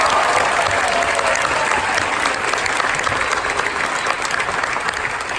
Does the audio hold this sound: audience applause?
yes